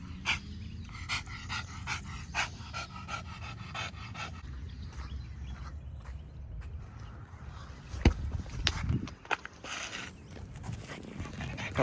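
A dog pants steadily at a dog park after climbing a hill, a continuous breathy rhythm under outdoor background noise, with a louder burst of activity near the end.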